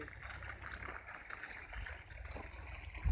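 Irrigation water runs steadily through furrows in a sugarcane field planted in rows eight feet apart, making a continuous rushing, trickling flow that stays even throughout with no talking.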